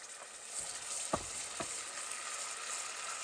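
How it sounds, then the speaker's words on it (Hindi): Tomato puree goes into a frying masala that has browned lightly, giving a steady hissing sizzle with a few short stirring scrapes, close and moderately quiet, with no voices. "टमाटो प्यूरी डाल देते हैं।"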